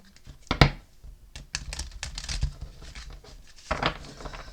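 A deck of cards is shuffled by hand, giving quick papery riffles and soft slaps in irregular bursts, close and fairly quiet, with no voices.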